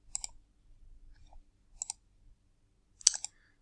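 Sparse, faint clicks from a computer mouse or keyboard while submitting a math answer online, a few isolated taps ending in one sharper click.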